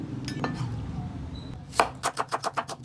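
A knife slices banana heart and squid for kinilaw on a cutting board, giving a quick run of about seven sharp, evenly spaced chops that follow quieter handling and kitchen clatter.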